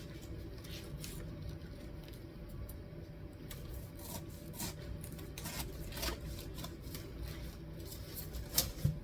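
A knife slicing the top off a pineapple on a cutting board, giving soft rubbing, rasping strokes with a few sharper crunches near the end, close but quiet and without talk.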